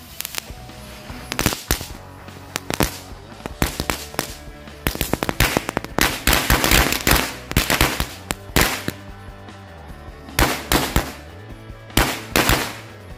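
Corsairs and Piccolo match firecrackers explode in quick, uneven chains of sharp cracks and pops, dozens of loud bangs bunching and overlapping for over ten seconds outdoors.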